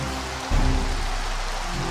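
Steady rain hiss falls in a college football game from NCAA Football 06, a broad even wash that thickens with a low rumble after the first half second and continues alone without talk.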